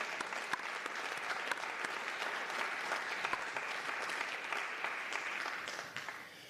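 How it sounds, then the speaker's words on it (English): Audience at an education service award ceremony gives steady applause for a long-serving math teacher, sustained clapping that fades slightly at the end. "That deserves an applause right there."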